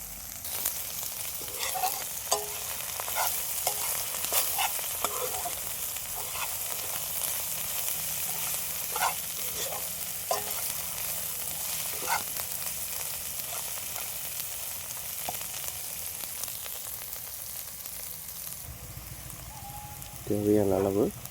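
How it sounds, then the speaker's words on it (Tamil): Masala ingredients for mutton masala sauté in a pan with a steady low sizzle and scattered stirring clinks, a louder scrape near the end. "இது எல்லாம் நல்லா பச்சை வாசம் போகிற வரைக்கும் நல்லா இப்படியே கை விடாமல்"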